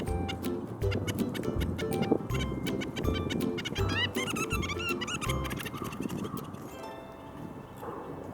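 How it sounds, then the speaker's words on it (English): Female red-breasted nuthatches in breeding season give rapid, repeated nasal calls, close and fairly loud, with dense overlapping chatter over steady background noise. "I love the sounds female red-breasted nuthatches make when they are in the breeding season."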